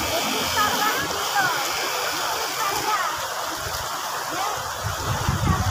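The fast, cold current of the Labi River in Bongabon, Nueva Ecija rushes steadily, a dense, close hiss of flowing water with occasional splashes, and faint voices are mixed in underneath.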